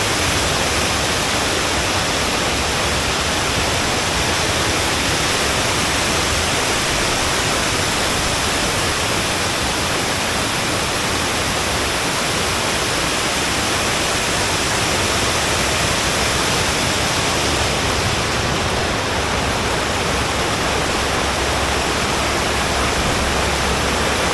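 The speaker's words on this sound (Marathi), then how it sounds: "त्या बांधावरून वाहणारं पाणी खूप सुंदर दिसतंय" Water pours over a dam at a waterfall in Rajapur, a dense, unbroken roar of rushing water that stays loud and steady throughout, with no voices.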